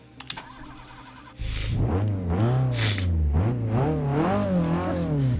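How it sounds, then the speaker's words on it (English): A 1970 Datsun 510's engine in Forza Motorsport 6 on Xbox One: a few clicks, then the starter catches into a loud idle, followed by several rising and falling revs, close and alone. "First, let's start up the engine."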